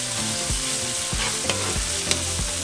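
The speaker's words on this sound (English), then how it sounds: "we're going to add our onion, tomatoes, and chile serrano. We're just gonna mix it all that together" Onion, tomatoes and serrano chile frying with chorizo in a pan, a steady close sizzle broken by several distinct scraping stirs and a few sharp clinks of the utensil, with no talking.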